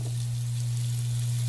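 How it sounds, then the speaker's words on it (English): Garlic and Hungarian sausage hit a pan of caramelized onions, giving a steady, fairly quiet sizzle with a constant low hum beneath it and no talking. "We're gonna add our garlic, and then we're gonna add our Hungarian sausage."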